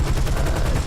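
A P-38G Lightning's .50 caliber machine guns in War Thunder fire a short, loud, rapid burst of closely spaced shots lasting under a second.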